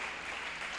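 A church congregation claps in a brief, steady burst of moderate applause that fills the room.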